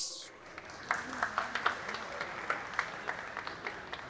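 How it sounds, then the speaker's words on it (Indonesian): Thin, scattered applause from a small audience at a public question-and-answer event with Anies Baswedan, a few sparse claps at first that build into light, uneven clapping without cheering. "Tepuk tangan yang kurang menandakan hari ini bukan acara relawan."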